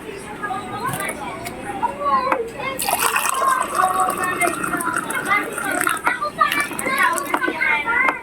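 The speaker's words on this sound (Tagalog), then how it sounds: "Lalagyan ko ng tubig." Water splashes and pours into a container amid lively background noise, with children chattering and playing nearby.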